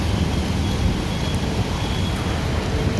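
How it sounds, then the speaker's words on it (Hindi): Hong Kong city road traffic, a steady broadband rumble of passing cars and heavy vehicles heard from within a moving vehicle, with no clear talk. "पहली बार हमने यहाँ पर ट्रैफिक देख रहे थोड़ी बहुत।"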